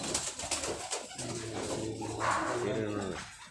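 Pigeons kept on a rooftop cooing in low repeated calls, close and fairly steady, with a dog-like bark or two and faint background voices mixed in.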